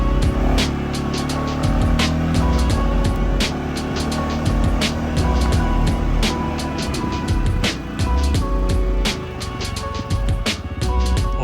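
An ATV engine drones steadily while riding, a loud continuous rumble with repeated sharp clicks and knocks from the machine rolling over rough ground, no voices.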